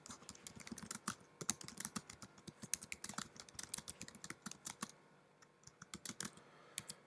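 Steady typing on a computer keyboard at a desk, dense rapid keystrokes with a short pause and a final flurry, close and fairly quiet, no speech.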